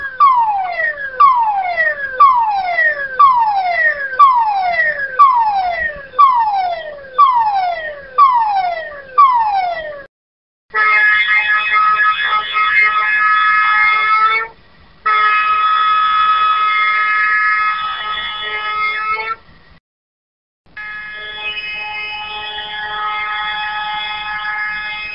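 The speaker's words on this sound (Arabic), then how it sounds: "في حالة الطوارئ سيتم إصدار رموز صفارات الإنذار التالية" Emergency alarm siren codes on a drilling rig: a run of repeated rising whoops in a quick rhythm, then long steady tones broken by short gaps, loud and close with no talk.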